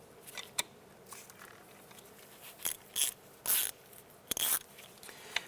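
A rear brake caliper piston on a 2004-2009 Dodge Durango is compressed back into its bore, giving short ratcheting clicks and scraping bursts in irregular spurts, close and moderately loud, with quiet gaps between them.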